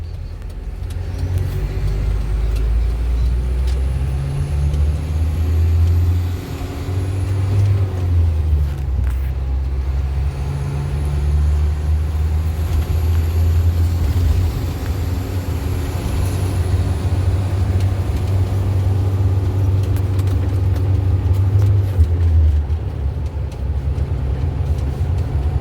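Cab-interior drone of a 2016 Isuzu NPR 75-190 tipper truck, around 200 horsepower, pulling hard onto the Dawson Highway; a loud steady low engine rumble with rising whine, continuous throughout without speech.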